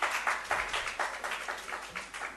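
Faint, fairly rhythmic clapping from a small audience welcomes a doctor speaker at a medical education session at an endocrine and diabetes hospital. The claps come in quick, evenly spaced bursts from a distance.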